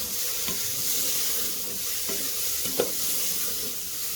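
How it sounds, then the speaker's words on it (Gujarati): Khichdi with masala stirred in a hot pan, giving a constant sizzle with a few scraping strokes of the spoon against the pan, close and steady. "ખીચડીને આપણે મસાલા સાથે મિક્સ કરી દઈશું."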